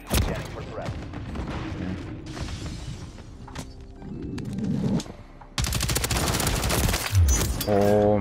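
Bal-27 assault rifle gunfire in a Call of Duty-style shooter, rapid automatic bursts mixed with game effects, impacts and a sharp shatter, loud and close, broken by a brief gap partway through.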